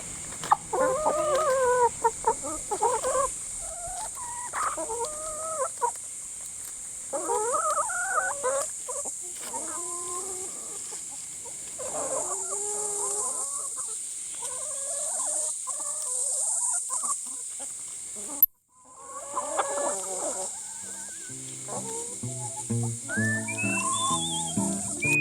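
Backyard farm chickens clucking and murmuring in repeated bursts near the listener over a steady high hiss, with a brief knock partway through and no talking.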